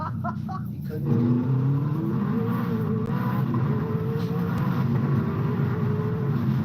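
A video game car engine revs hard through a power wheelie, a loud steady roar with rising tones lasting the whole stretch after a brief opening burst.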